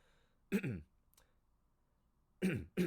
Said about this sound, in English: she kind of just coughs into her hand a bit